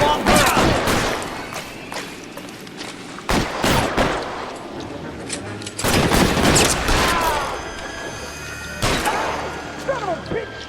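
Gunfire in a shootout in L.A. Noire, with sharp, loud shots in scattered bursts and ringing echoes between them.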